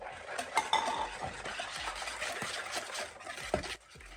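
Ground oats are stirred into a milk mixture, producing a continuous close-up scraping and swishing of a utensil against a bowl, with a few louder clinks along the way.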